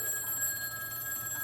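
Telephone ringing on an old-style line, a faint, steady electric bell tone with thin sustained overtones, heard alone for a moment before anyone answers.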